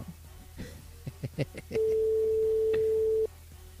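A telephone ringback tone on an outgoing call to a mobile: a steady, loud single tone holding for about one and a half seconds, after short clicks and handling noises.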